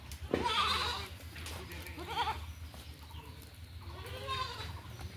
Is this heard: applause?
no